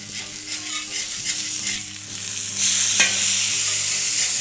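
Smash burger patties sizzle loudly on a griddle just after flipping, a bright, continuous crackling hiss that grows stronger partway through, with a low steady hum underneath.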